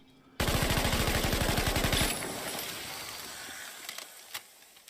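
A German WW2 MG34 or MG42 machine gun fires a single long burst at a very high, buzzing cyclic rate for about two seconds, loud and close, then an echoing tail with a few faint clicks.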